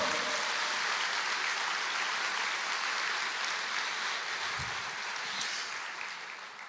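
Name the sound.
congregation applauding in church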